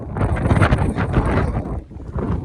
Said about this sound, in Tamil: புயல் காற்று வீசுதுங்க செம்ம காற்று அடிக்குதுங்க